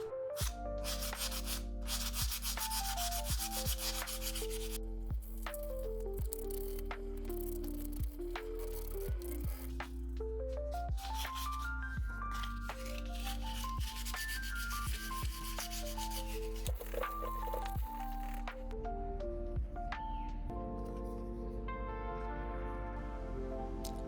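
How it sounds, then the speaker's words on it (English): Repetitive rubbing and scraping of sandpaper in short strokes on the edges of a resin pendant, steady and close, with a droning tonal hum running underneath throughout. "It was then back to sanding yet again to get the edges nice and smooth."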